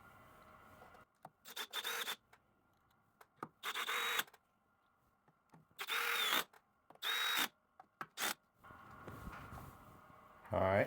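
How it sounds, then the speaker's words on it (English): Screws driven into the gantry of a Genmitsu PROVerXL 2x2 CNC machine with a power drill, several short whirring bursts separated by pauses, close and fairly loud, with handling noise between them. "Let me get some screws in there, and I'll go around the other side and do the same thing."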